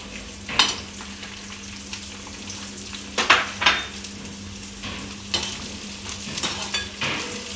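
Cabbage stir-fried in hot oil for a vegetable biryani, a steady background sizzle broken by a few sharp scrapes and clatters of a spatula against the pan, heard close with no talking.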